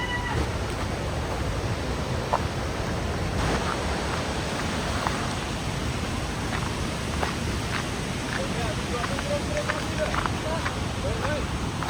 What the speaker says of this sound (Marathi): आणि एक ह्या साईडनी नदी येते, तो इथं दुसरा वॉटरफॉल आहे